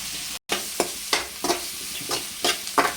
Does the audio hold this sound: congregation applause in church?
no